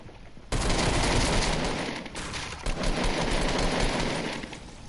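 Fortnite gunfire erupts abruptly and continues as a dense, loud, rapid-fire burst, sustained with brief dips and renewed surges.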